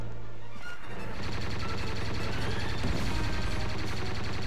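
Rapid gunfire fills a modded Star Wars Battlefront 2 match, a dense, continuous stream of loud blaster-style shots that rarely pauses, with no one talking over it.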